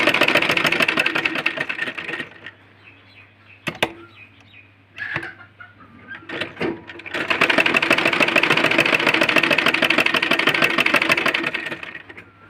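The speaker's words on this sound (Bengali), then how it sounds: "এইবার সেলাই করব। এই যে এইভাবে সেলাই করে নিতে হবে।" A sewing machine stitches fabric for a baby frock, running in loud, steady rapid bursts at the start and again at the end, with a quieter stretch in between broken by a few clicks and handling knocks.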